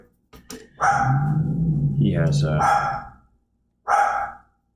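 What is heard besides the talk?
dog barking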